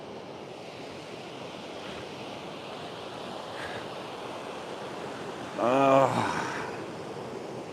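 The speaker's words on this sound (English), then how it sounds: "I'm going to let you listen to the sounds of the sea for a minute" Steady sea waves and wind wash past a small boat on an orca safari, a continuous broadband roar, with a brief voiced exclamation rising over it near the end.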